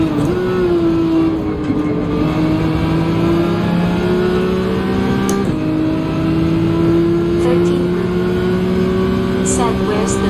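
A Honda Type R's engine drones steadily in the Gran Turismo 7 racing game, a loud sustained tone with a small pitch dip partway through, under running commentary.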